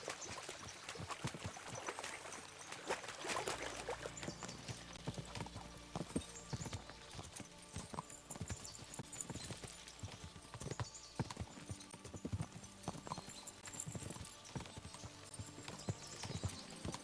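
Horses gallop in Kingdom Come: Deliverance II, their rapid clip-clop hoofbeats steady and close for the whole stretch, with a faint trickle of stream water and an occasional whinny.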